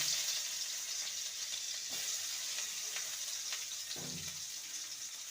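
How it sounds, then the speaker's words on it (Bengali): Chopped onion fries in oil in a pan with a steady moderate sizzle, a few soft stirring knocks breaking through, no one speaking. "এবারে দিয়ে দেবো একটা মিডিয়াম সাইজের পেঁয়াজ কুচি"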